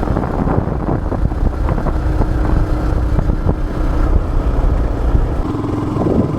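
A Yamaha R15 V2 motorcycle, eleven years in service, ridden at around 60–80 km/h while leaning, its engine drone steady and loud under heavy wind rush across the microphone, no talk.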